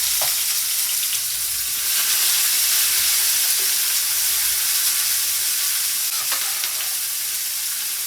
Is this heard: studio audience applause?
no